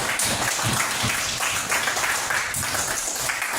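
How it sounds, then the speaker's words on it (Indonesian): Students clap in a classroom, a dense, continuous burst of applause that stays loud throughout the short stretch, with a rough, crowded texture. "tepuk tangan buat itu semua."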